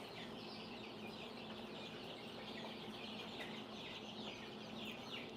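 Baby chicks in a chicken house: soft, continuous chirping and peeping from several small birds over a low steady hum, faint and distant throughout.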